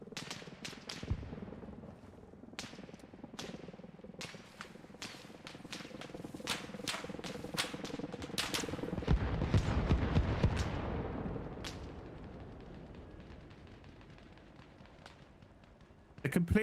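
Scattered gunshots in Arma Reforger, the military shooter, crack out as repeated sharp reports at varying distances. The shots come in irregular bursts over a steady background rumble, and a voice talks over part of it.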